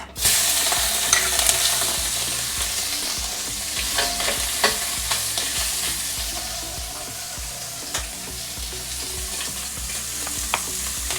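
Shrimp frying in a tablespoon of oil in a smoking-hot wok, a loud continuous sizzle with stirring scrapes and occasional clinks, close up and without talk.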